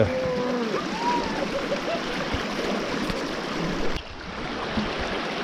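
A river flows among rocks along a mountain pass in the Cradock and Montague pass area, giving a close, continuous rushing wash with a few faint whistles early on.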